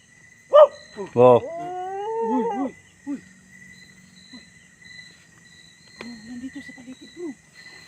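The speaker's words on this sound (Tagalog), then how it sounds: "Parang malaking aso po." A dog howls in long rising and falling wails with short barks mixed in, fairly near, over a quiet night background with a steady insect-like whine.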